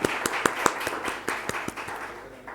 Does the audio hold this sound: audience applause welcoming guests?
yes